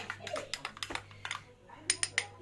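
Cocoa being stirred and whisked into whipped cream for a chocolate cake, a quick series of light clinking taps of a utensil against the bowl, close and fairly loud with a short pause midway.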